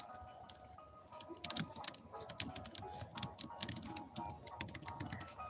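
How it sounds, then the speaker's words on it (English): Keys tapped on a keyboard in an irregular run of light, quick clicks, close and fairly quiet over a faint background hum. "I'm typing this in."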